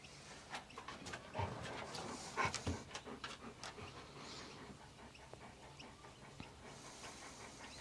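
A dog pants steadily nearby in a quiet room during a yoga session, giving soft, rhythmic breathy huffs with a few louder puffs.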